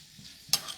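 A tempering of cumin, pepper powder and dried chilli hits hot oil in a kitchen, bursting into a sudden loud sizzle partway through an otherwise quiet moment, then crackling on.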